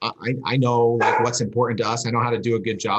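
A dog barks and yips in the background of a home workspace, several short bursts heard faintly beneath continuous close conversational speech.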